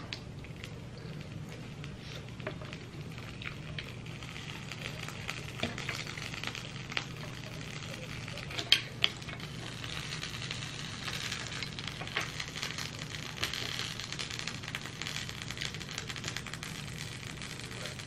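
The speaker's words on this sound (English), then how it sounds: "Ooh, sorry for all the sizzling, y'all. I got butter down here." Steady, dense sizzling of butter in a hot pan, continuous crackle and hiss with a few sharper pops, fairly close.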